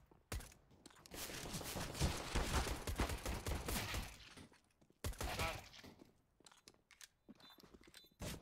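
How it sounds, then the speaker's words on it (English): Rapid gunfire in an online shooter match, dense bursts of shots with sharp cracks clustered over several seconds, then scattered single shots, heard without talk. "There was some shots there."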